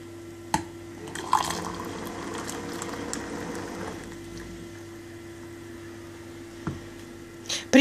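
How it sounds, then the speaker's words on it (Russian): Hot water streams from an electric thermopot dispenser into a cup, a steady liquid pour from about one to four seconds with faint pump hum beneath, framed by a few sharp clicks and knocks before and after. "Наливать воду можно в двух режимах. Это быстрая подача воды, то есть электропомпой, и подача воды вручную."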